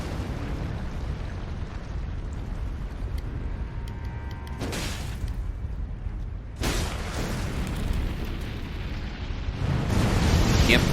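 Fire pots explode in the video game Elden Ring, two sharp blasts a couple of seconds apart with a rumbling burst building at the end, loud over a steady low game soundscape.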